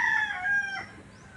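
A rooster crows once, close and loud, its call bending downward at the end before trailing off into quiet, with no talking.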